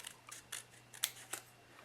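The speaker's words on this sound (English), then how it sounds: "I'm going to take my scissors, I'm going to cut along here just about 3/4 of the way up" Scissors snipping origami paper for a goldfish model, about five short, sharp, close cuts at an uneven pace in a quiet room.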